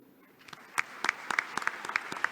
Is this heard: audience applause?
yes